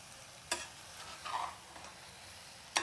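Kolhapuri chicken pieces coated in masala are turned in a pan with a spoon: a faint background sizzle broken by a few sharp scrapes and clicks against the metal.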